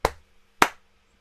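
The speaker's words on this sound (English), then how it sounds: "We're going to tap our chest, stamp clap." Two sharp, close body-percussion hits about half a second apart, a chest tap or stamp followed by a clap, performed in a choir rehearsal, each with a quick decay and no voices.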